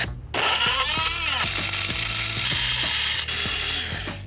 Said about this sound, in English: then cut it up, then grind it up